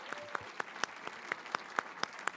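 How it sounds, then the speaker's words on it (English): A small audience applauding the Young Leaders Committee at a club event; sparse, fairly faint claps with a few distinct sharp hits standing out at an irregular rhythm. "If I could just get them to stand up and take a applause for bringing this program together."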